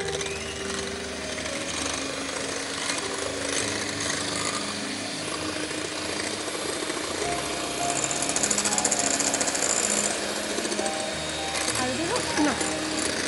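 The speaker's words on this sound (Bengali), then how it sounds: "আমি যখন ব্লেন্ড করছি" A kitchen blender runs steadily and loudly throughout, a dense mechanical whir, with talk faintly under it.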